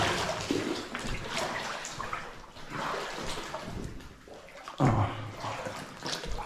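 Someone wades through nearly waist-deep water in an underground mine adit in the Izera Mountains, with close, loud surges of sloshing and splashing that come in repeated pulses and no speech.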